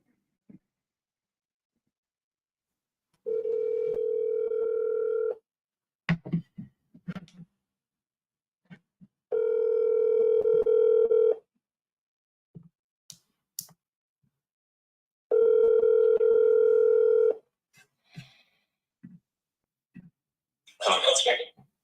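Three long, steady telephone ringback tones for a commercial real estate cold call, each lasting about two seconds with quiet gaps, with soft clicks and handling noises between them.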